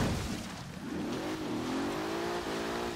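An off-road Bentley Bentayga's engine in Forza Horizon 3 revs up and holds a rising, throaty roar, with a tire squeal mixed in, loud and close throughout.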